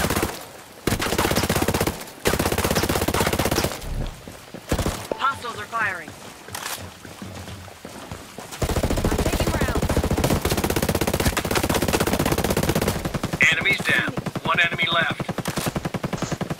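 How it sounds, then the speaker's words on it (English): Video game gunfire from hostiles, rapid automatic bursts in long loud stretches broken by brief gaps, with a player talking over parts of the shooting. "Hostiles are firing."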